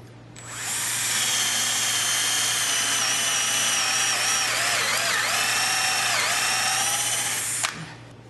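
A power drill bores dowel holes into a wooden garden bench, spinning up after a moment into one long steady high whine that wavers slightly under load, then cuts off with a click near the end.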